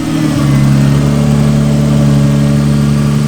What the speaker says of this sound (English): That is the healthiest that this RB20 has ever sounded, and it's running smoother than it's ever ran before.